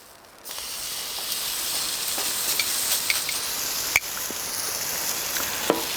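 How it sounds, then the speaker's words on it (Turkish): Wagyu beef pieces sizzle in a hot pan with a steady, close hiss of frying fat, broken by sharp pops and spits as a second piece goes in. "Şimdi hemen ikinci parçayı koyuyorum."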